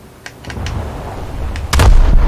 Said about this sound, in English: Torpedo impact on the enemy ship.